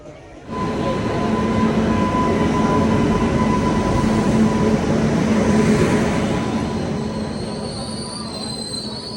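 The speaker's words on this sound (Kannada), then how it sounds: "ಕೊನೆಗೂ ಟ್ರೈನ್ ಬಂದೇ ಬಿಡ್ತು" A train rolls into a station with a steady rumble and a sustained high wheel squeal, holding loud for several seconds before easing slightly as it slows.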